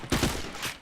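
Rapid burst of gunfire in the shooter game Point Blank, dense overlapping shots in a short loud flurry lasting under a second.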